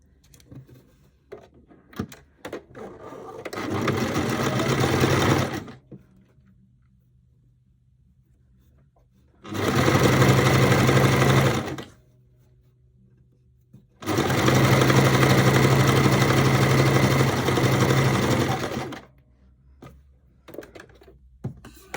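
A sewing machine stitches a seam on linen shorts in three loud, steady runs separated by quiet pauses, the last run the longest, with faint handling clicks between them.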